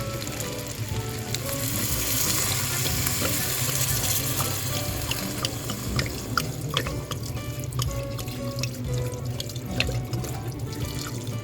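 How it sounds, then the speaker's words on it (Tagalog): Water pours steadily into a pot of macaroni, a rushing, splashing stream with faint sizzling and small clinks scattered over it. "Lagyan na natin siya ng tubig."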